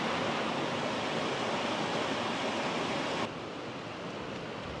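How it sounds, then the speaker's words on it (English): Water flows steadily at Seven Falls as a dense, continuous rushing hiss, close and fairly loud, easing slightly in volume near the end with no voices. "Listen to the water."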